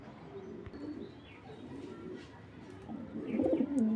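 A pair of pigeons, a chocolate grizzle racer and an Andalusian, coo close by in low throaty bursts. The cooing swells louder and more continuous toward the end against a quiet room background.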